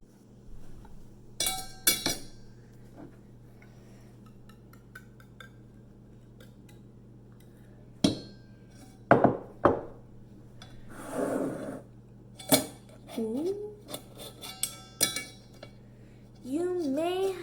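Thick, chunky chocolate pudding for a spider web pudding pie is stirred and pushed through a metal sifter, giving scattered clinks and scrapes of utensil on metal and glass, with a few louder rubbing bursts near the end.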